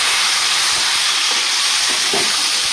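Vegetables such as drumsticks, potatoes and tomatoes dropped into hot oil in a pan produce a loud, steady hissing sizzle that fills the clip, with faint stirring clicks underneath.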